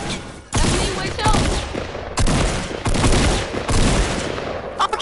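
Rapid video game gunfire, dense bursts of loud shots rattling in clusters with short gaps, close and heavy, briefly overlapping a talking voice.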